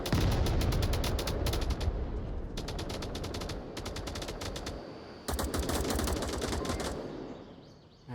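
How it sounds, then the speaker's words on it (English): Rapid automatic gunfire from an Onward VR competitive match, with dense, loud bursts of shots running almost continuously, a short lull near the middle, then another sustained volley. "shooting through the fence, long range shots"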